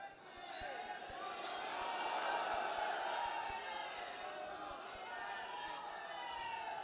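A large crowd fills a stadium hall in Delhi with a sustained, roaring chant of a religious slogan during a political rally, a dense, echoing wash of massed voices swelling and holding without a break.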